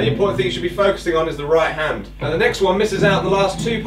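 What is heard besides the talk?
None of the usual background noises is heard.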